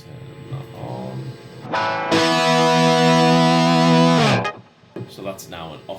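Electric guitar run through a pitch shifter set an octave above rings out in a sustained, bright chord lasting about two seconds, preceded and followed by short picked notes, with clean doubled upper harmonics.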